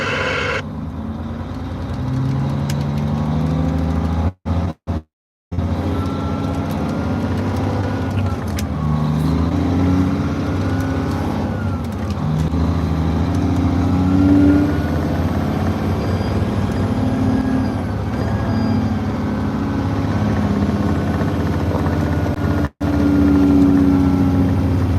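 Truck engine droning continuously while driving, dropping into fourth low gear with shifts that change the pitch of the hum, people talking over it in the cab.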